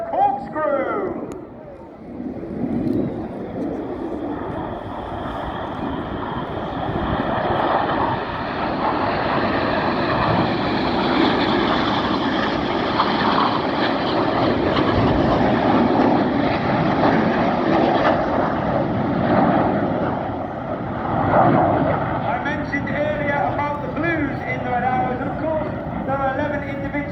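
Red Arrows jets at the Royal International Air Tattoo roar overhead through a corkscrew display manoeuvre, a loud, sustained jet rush that builds and fades, with a commentator talking.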